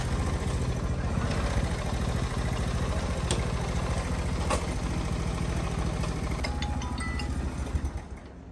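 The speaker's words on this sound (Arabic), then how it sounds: "الموتور مديماري." A motorcycle engine idles steadily and close by with a continuous rumbling drone, set in a Moroccan home scene, and it tapers off near the end.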